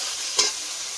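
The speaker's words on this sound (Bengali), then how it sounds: "লবণ, মশলাটা একটু ভেজে নিয়ে" Spices with turmeric and salt fry in a pan as a soft, steady sizzle with one short stirring scrape partway through, fairly faint and without voices.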